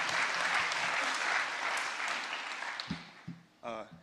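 An audience at a hackathon closing ceremony applauds in a steady wash of clapping that slowly thins out, with a few louder single claps and a brief voice near the end.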